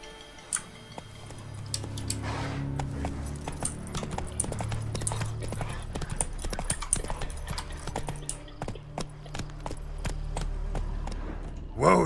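Roach the horse from the video game The Witcher 3 clip-clops along in a steady, close rhythm of sharp hoof strikes, with a low musical drone and faint background ambience beneath.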